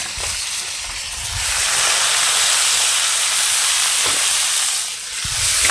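Green leafy greens go into a hot wok of fried garlic cloves and sizzle loudly. A broad, steady hiss of frying and steam carries through, swelling slightly and then easing, with a few faint clinks and no talk.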